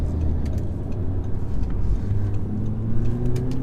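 A 2008 Audi TTS engine accelerates, a loud, steady, guttural drone with a rising pitch as the car pulls harder, heard from inside the car.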